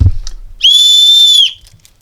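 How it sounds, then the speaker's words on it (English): A single loud, piercing blast from a survival whistle held for about a second, shrill and steady, preceded by a few faint clicks and handling noise. "Oh, it's a whistle."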